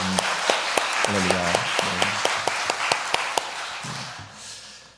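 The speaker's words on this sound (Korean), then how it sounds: "함께 영광의 박수 다시 한번 올려드립니다." A church congregation at a Sunday worship service applauds together in a steady run of loud, rhythmic claps that fades out near the end, with a spoken exclamation over the start.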